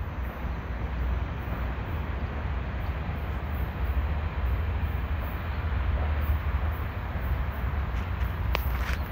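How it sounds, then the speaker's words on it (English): Union Pacific freight train heading southbound past a street crossing in Fresno, California, a steady, even rumble of rolling rail cars with no talking. "we got an incoming Union Pacific freight train heading southbound"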